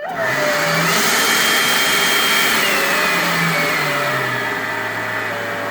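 A RYOBI battery-powered electric leaf blower spins up and runs with a loud, steady whooshing whine that shifts pitch slightly as speed changes, close and continuous.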